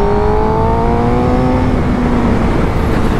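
A Suzuki GSX-R750 motorcycle engine revs hard under throttle on twisty roads, a loud, close, continuous whine holding high then easing slightly in pitch, with strong wind rush and no talking.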